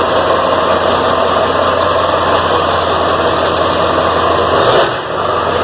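A 1997 OBS Powerstroke 7.3L truck with straight-piped exhaust idles loud and close, a steady rumbling drone that dips briefly near the end before settling again.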